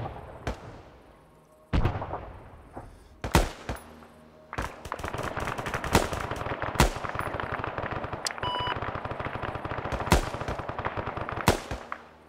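Video game gunfire in Project Tension, with sharp single shots and then rapid automatic bursts, loud and close, recurring in clusters over a continuous battle backdrop.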